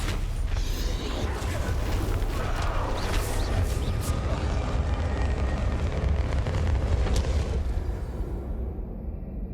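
A Bombarda spell explodes in Hogwarts Legacy: a loud, sustained roaring blast with rumbling debris and crackling that fills the scene before fading out at the end.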